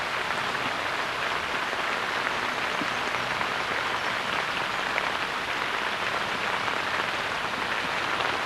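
Heavy thunderstorm rain pours down at a tench-fishing spot, a dense, continuous roar of drops hammering surfaces, loud and even throughout with no talk.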